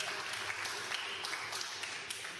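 Moderate applause ripples through a real estate investment mixer crowd, with individual claps audible in a fairly thin, uneven patter that stays steady throughout.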